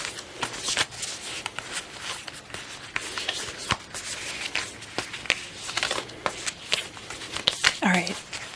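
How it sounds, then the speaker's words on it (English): A Kim Krans tarot deck of stiff cards gets shuffled by hand in soft, uneven riffling and tapping, quiet and close, with a voice speaking over parts of it. "Even though these cards are almost impossible to shuffle."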